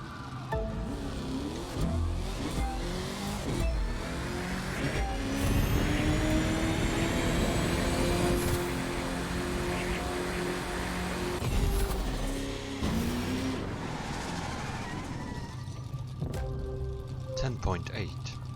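A drag racing car in The Crew 2 video game revs hard and rises through quick short shifts, its engine climbing in pitch and dropping at each gear change while someone talks over it.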